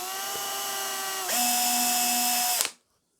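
A power drill drives tiny screws up close, whining steadily, then rising to a higher-pitched spin for about a second before stopping abruptly into silence.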